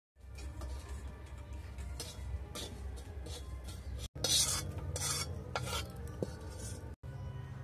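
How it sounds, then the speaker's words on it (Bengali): Whole coriander, cumin, a dried red chilli, fennel seeds and salt are stirred and dry-roasted in a wok, making busy scraping and rattling strokes close by for several seconds, with two short breaks. "গোটা ধনে, জিরা, একটা শুকনো লঙ্কা, মৌরি আর লবণ, সবগুলো আমি কড়ার মধ্যে দিয়ে নেড়ে নেব।"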